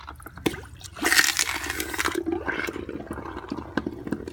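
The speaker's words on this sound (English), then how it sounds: "And you can still hear how hot that flask is inside." Hot jewelry casting flask quenched underwater, giving a burst of hissing, bubbling and gurgling water that surges loudly after a faint knock, then settles into steady fizzing and crackling.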